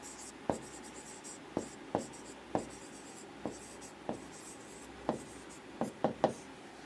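Handwriting during a Hindi-language lesson on human health, as terms are written out in Hindi and then English: a string of sharp, separate pen or chalk strokes in an uneven rhythm, close and clear over a quiet background.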